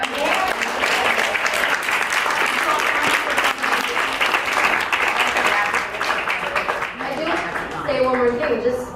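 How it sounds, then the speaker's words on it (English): A conference audience breaks into sustained, loud applause for a panel of speakers, dense clapping filling the room throughout, with a few voices audible as it tapers near the end. "Round of applause for our panel."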